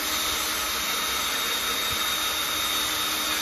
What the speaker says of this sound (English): Now go ahead and drill and pull it up.